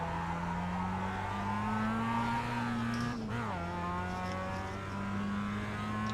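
Race car engine in the iRacing sim holds a steady loud drone, then blips and drops pitch sharply just past the midpoint as the driver brakes and downshifts to second before the note settles again.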